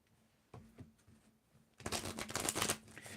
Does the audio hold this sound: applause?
no